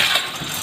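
A mixer grinder whirs as it grinds roasted peanuts in its jar, a short burst of steady, close motor whine with a gritty edge and no talking.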